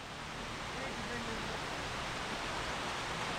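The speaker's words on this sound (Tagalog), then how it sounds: "Bumagsak naman ang ulan." Rain falls in a steady, even hiss of broadband noise, constant from start to finish with no distinct drops or pauses, moderately loud and close.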